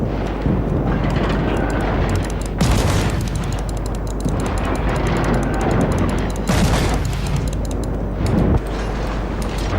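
In a naval warship video game, heavy guns fire armor-piercing shells in dense, thundering volleys: loud booms overlap into a continuous roar with sharper blasts punching through.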